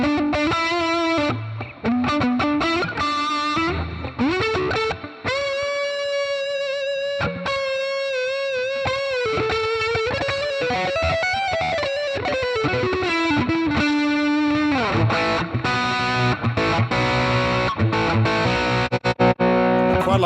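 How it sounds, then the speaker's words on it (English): Electric guitar played through a Joyo Preamp House with plate reverb gives a loud, distorted tone, with sustained notes, slides and bends, and a brighter chugging riff toward the end. "Let's go back to just a plate reverb."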